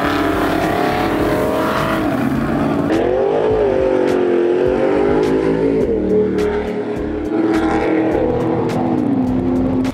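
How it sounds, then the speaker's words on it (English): Hot rod engines rumble loudly and steadily at a street rod cruise in Herington, Kansas, a deep throaty drone with revs that rise and fall and sharp crackling bursts over the continuous roar. "I don't know how to explain this noise I feel when all these engines are rumbling."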